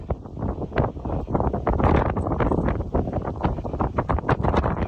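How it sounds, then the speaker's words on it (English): Strong wind on a mountain stretch of the Appalachian Trail in Tennessee buffets the microphone in a continuous roaring rush with gusty bursts, loud and close throughout. "Windy up here, folks."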